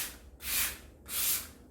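Two smooth, even strokes of 400-grit sandpaper rub across a wooden whale-shaped cutting board, each a soft hissing scrape separated by a brief pause, close and quiet with no talk.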